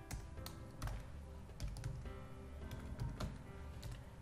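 A computer keyboard clatters with quick, uneven keystrokes as code is typed, close and fairly soft, with short pauses between bursts.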